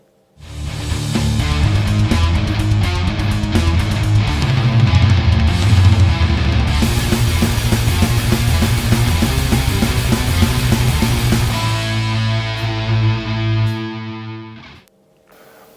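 Loud, distorted metal guitar riff section, driving steadily with heavy low chugs and then ringing into sustained chords that fade out near the end.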